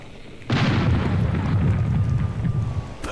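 A single loud cannon blast from the video game Air Buccaneers, a sudden booming report followed by a long rumbling tail.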